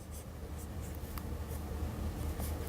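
Pen or chalk scratches while chemical formulas are written, a soft continuous scraping of strokes close by, with a low background hum and no talk.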